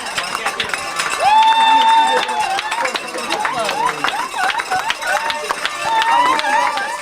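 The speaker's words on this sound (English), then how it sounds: "cheering Ms. Sherman on as her coding students trailed behind her, ringing cowbells" Students and staff cheer along a school hallway while coding students ring cowbells during a victory lap, a lively mix of shouts and whoops with bright metallic clanks, voices rising and falling throughout.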